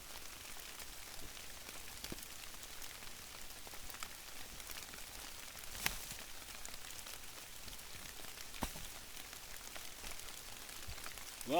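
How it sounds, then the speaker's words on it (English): Rain patters steadily on a lean-to shelter at a bush camp, a soft, even hiss of drops with occasional louder single taps nearby, fairly quiet throughout and with nobody speaking. "Well, the rain really put a kink in my plan"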